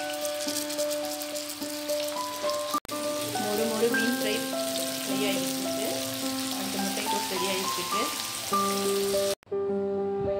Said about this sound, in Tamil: நீங்கள் ஒரு 10 நிமிஷம் ஊற வச்சு வச்சுருக்கேன் அந்த மசாலாவும் போட்டு இப்போ ஃப்ரை பண்ணலாம்.